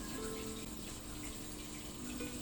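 Water from a small stream flows steadily in a soft, continuous rush over branches and stones, faint and even throughout, with no voices.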